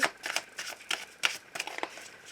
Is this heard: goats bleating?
no